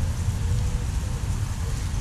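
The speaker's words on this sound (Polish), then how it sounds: "Coraz bliżej deszczyk." Steady heavy rain pours down outdoors in Warsaw, a dense, loud, unbroken hiss of falling water with no voices.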